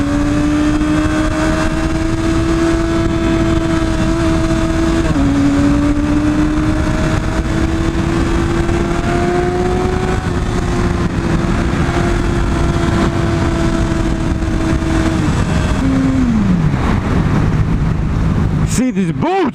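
A Yamaha R6 sport motorcycle riding on the road, its engine droning loudly and steadily throughout with pitch stepping through gear shifts and rising under acceleration, wind roar over the microphone, and a sharp knock near the end.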